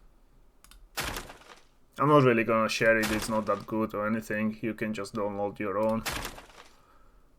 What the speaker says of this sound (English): destruction, crate break, that sounds like this.